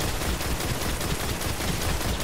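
Hive fusion weapon firing in the video game Destiny during the Undying Mind strike, a dense, continuous crackling burst of energy fire that fills the whole stretch at a steady level.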